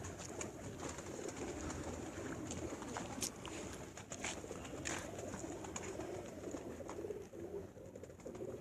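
Faint pigeons coo softly on a rooftop where pigeon fanciers keep their birds, against a low, steady outdoor background.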